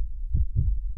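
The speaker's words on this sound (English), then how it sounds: "that's a humpback whale, a humpback whale. Very large animals, very slow heartbeats." Humpback whale heartbeat, two deep, muffled low thumps about a quarter second apart, close and alone with no talk.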